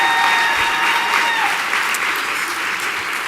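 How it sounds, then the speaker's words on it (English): Audience applause at an awards luncheon, a dense, steady clapping from a large crowd that stays loud and even throughout. "that deserves a round of applause"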